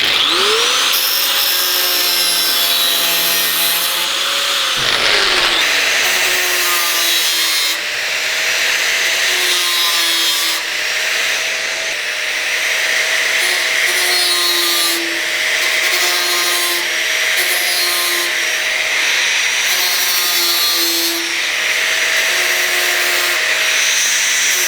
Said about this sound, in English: then you can get the grinder in to put your radius on